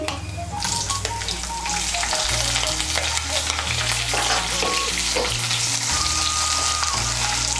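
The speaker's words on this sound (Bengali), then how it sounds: "পেঁয়াজ কুচিটাকে তেলের সঙ্গে মিশিয়ে নেব, মিশিয়ে নিয়ে পেঁয়াজ কুচিটাকেও লাল করে ভেজে নেব।" Chopped medium-sized onion frying in hot oil, a loud, steady sizzle close up with stirring scrapes mixed in, continuous throughout and no talking, while tonal background music plays underneath.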